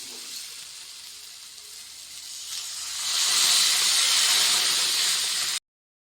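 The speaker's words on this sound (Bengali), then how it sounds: "তো চলো এখন দিয়ে দেবো জল" Water poured into a pan of hot frying spices and mustard paste for a pabda fish dish, setting off a loud close hiss of steam that builds and holds before cutting off abruptly.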